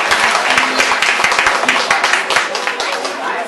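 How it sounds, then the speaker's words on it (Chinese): An audience at a Vancouver Dragon Boat Festival show applauds warmly after a children's performance, the dense clapping steady and close throughout. "我们再次掌这里的热烈掌声"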